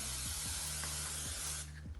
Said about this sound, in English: Now we're gonna spray the heck out of it